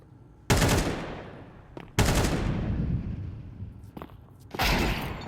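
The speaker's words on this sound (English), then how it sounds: "that must have been a Deagle wallbang." Desert Eagle pistol shots punching through a wall in a professional Counter-Strike match at PGL Masters Bucharest 2025: three loud, sharp blasts with long reverberant tails, spaced a second or two apart.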